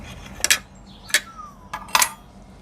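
A metal tray or plate clatters in four sharp, ringing clanks spaced about half a second apart, close and fairly loud against a quiet background.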